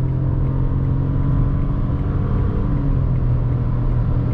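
Citroën C3 Aircross 1.0 turbo with CVT pulling hard to overtake on a highway, a steady loud engine drone with broad road and wind rumble, continuous and close throughout.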